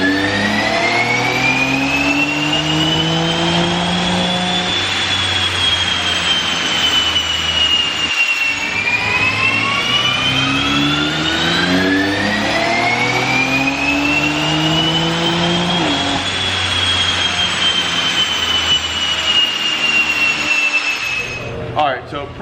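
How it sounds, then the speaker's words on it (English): A BMW X3 M with the S58 engine revs hard through a dyno pull on pump gas, its loud, steady roar climbing in pitch over long stretches, with a shift-like break near the middle and a second climb before it cuts off. "I'm gonna keep making tweaks and making more dyno hits,"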